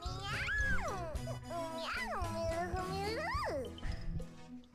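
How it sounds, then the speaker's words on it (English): Cat meows with rising and falling pitch, heard from a horror game session, loud and drawn out over several seconds, mixed with a low droning background. "That cat's having some problems."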